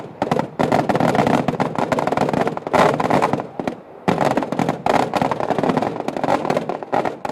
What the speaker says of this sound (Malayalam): കേരളത്തിലെ ഏറ്റവും വലിയ പകൽ വെടിക്കെട്ട് ഇത്തവണയും കളറായി